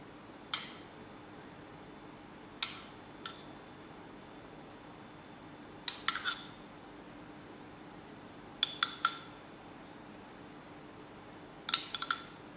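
A metal spoon clinks lightly against a dish while cinnamon sugar is sprinkled over a dulce de leche apple pie, with sharp, faint taps arriving in small clusters over a quiet background.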